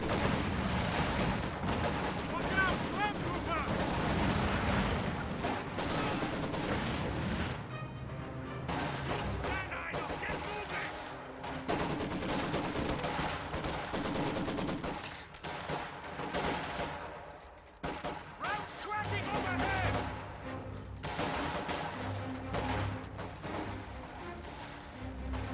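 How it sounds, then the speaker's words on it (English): Heavy, chaotic gunfire and explosive impacts from a high-explosive artillery barrage in a real-time tactics war game, dense bursts and booms layered over music and battle noise throughout, loud and sustained. "High explosive barrage does a little light damage to those squads in green cover."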